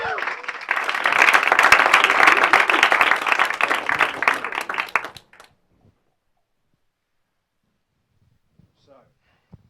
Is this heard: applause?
yes